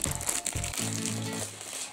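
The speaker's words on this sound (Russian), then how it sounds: "Открываем вот этот пакетик, этот а пакетик розовый черную полосочку." A pink plastic surprise packet with a black stripe is torn and opened up close, giving loud crinkling and crumpling bursts that settle into softer rustling.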